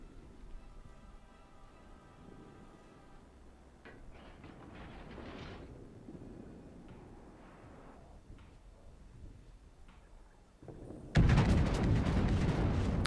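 Battleship shells thunder in the World of Warships naval battle game, with scattered rumbling booms and a sudden loud, sustained blast of gunfire near the end.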